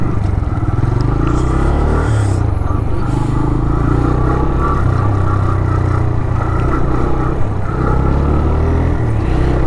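Motorcycle engine running at a toll gate, a loud continuous low rumble with clattering road noise close by.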